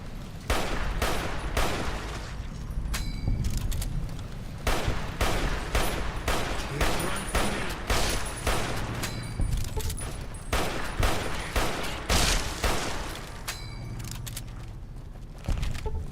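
An M1 Garand rifle fires in the video game Fallout New Vegas: a dense, loud run of sharp shots with brief gaps, cracking close and fast across the whole stretch, with no talk over it.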